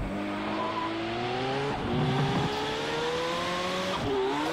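Engine of a racing car in an off-road racing video game (Exion Off-road racing) revs steadily and climbs in pitch as it accelerates, with brief tire scrapes and a drop in tone mid-way, loud and continuous with no speech.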